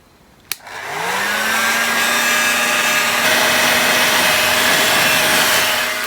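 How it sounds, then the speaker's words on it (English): After a sharp click, a heat gun whirs up and runs as a steady loud blowing hiss with a faint whine, used to melt solder on a thick wire fitting from a Porsche 928 engine loom. "I'm going to get the heat gun out and see if I can undo the solder and get it out"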